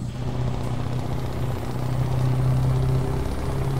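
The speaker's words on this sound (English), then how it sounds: "I like the way the truck sounds on idle." A modded Scania T Series truck in Euro Truck Simulator idles with a steady, low, throbbing exhaust rumble, loud and continuous with a slight flutter.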